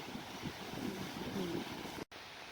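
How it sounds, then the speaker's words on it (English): Steady, blustery wind roars against the microphone with a hiss of light rain at Fort Pulaski, cutting out abruptly near the end. "it is raining a bit and it is windy like crazy."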